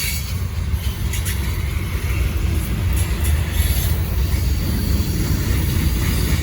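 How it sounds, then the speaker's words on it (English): A Norfolk Southern freight train loaded with lumber rolls steadily past close by, a continuous heavy rumble of wagons with faint wheel squeal and clatter, with no voices. "lots of lumber on this train"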